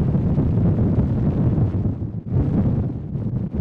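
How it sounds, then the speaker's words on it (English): Thunder built in the Serum soft synth from an original rain sound: a steady, dense low rumble that swells and briefly dips midway, with no voices. "I think this is originally rain, and I just made it into thunder"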